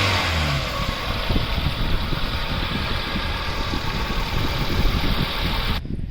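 A white 2012 Maruti Gypsy 4x4 with a petrol MPFI engine drives along, its engine running steadily at close range with a rough, continuous drone and some revving, with no voices.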